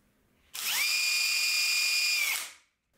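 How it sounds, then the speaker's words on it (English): A power drill bores a 1/16 inch pilot hole in a plate, one steady high whine that spins up sharply, holds for about two seconds and then winds down, close and alone. "I drill a 1/16 pilot hole."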